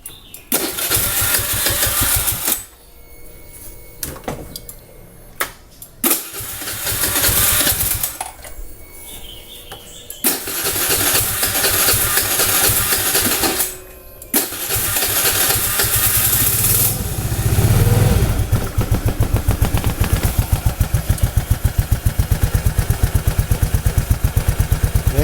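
A motorcycle engine running after an oil change to CCO oil, a loud steady mechanical drone broken by several short gaps and bursts, then settling into a continuous rhythmic idle.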